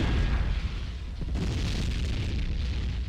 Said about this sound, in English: The missile launcher fires a heat-seeking missile that can lock onto larger enemy assets